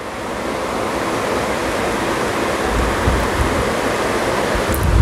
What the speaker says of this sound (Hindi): प्याज हल्का सा फ्राई हो चुका है, तो अभी इसमें अदरक लहसुन का पेस्ट डाल देते हैं।